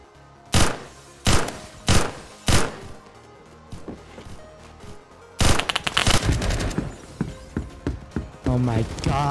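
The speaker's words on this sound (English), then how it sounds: "I can't even freaking shoot this gun." A G11K2 rifle fires in the Roblox shooter Phantom Forces: four loud, evenly spaced single shots, then a denser rapid burst mixed with clanks and other game effects.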